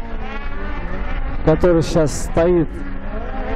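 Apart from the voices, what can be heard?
snowmobile engine roaring at a snowmobile cross race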